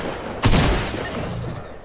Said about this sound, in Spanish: Escucho aquí los disparos.